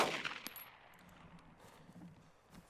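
A single gunshot in the survival game DayZ, fired near a zombie, cracks sharply early on and then decays into a faint echoing tail with low rumble over the following seconds.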